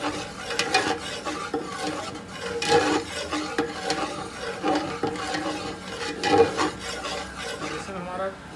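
Gram flour (besan) roasting in a pan while being stirred, giving a steady close scraping and rasping with soft sizzle, rising in several louder stirring strokes, no talk.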